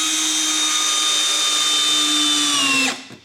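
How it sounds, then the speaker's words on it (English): A cordless hammer drill on its high-torque, low-speed setting whines steadily and loudly while driving a screw, then winds down abruptly near the end. "So it's taken some time to drive that screw"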